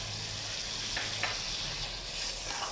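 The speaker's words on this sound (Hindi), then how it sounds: "और इसको अच्छा सा हम फ्राई करेंगे" Spices sizzle in hot oil with ginger, garlic and green chili for an Afghani chicken karahi, a steady close frying hiss that continues without talk.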